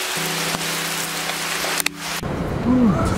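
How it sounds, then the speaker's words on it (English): A sudden flash rain shower comes down outdoors, a steady broadband hiss of rain and water on surfaces that grows denser and louder toward the end, with a brief knock partway through. "It's suddenly flash rain."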